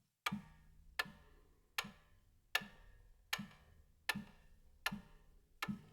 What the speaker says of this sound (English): You have different clocks and ticks.